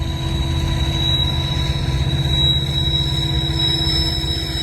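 A freight train rolls past with old coal and ore cars, making a steady low rumble and rhythmic clatter with a constant tonal whine over it.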